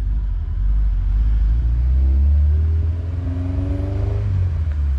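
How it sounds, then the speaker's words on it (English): A car engine revs up with a deep, steady exhaust rumble through a Yanaka 3-inch ultra quiet resonator exhaust, rising and then settling, close by, with no talking. "That Yanaka exhaust. Full 3-inch ultra quiet resonator."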